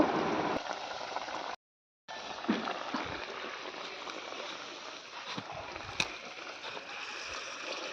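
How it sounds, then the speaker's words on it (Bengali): Pot of Bengali parshe fish curry with mustard and tomato boiling steadily, a continuous bubbling hiss close up with a brief break and no talking. "তো এদিকে মাছটা দেখো ফুটে গেছে, আর এটাকে এবার নামিয়ে নেব।"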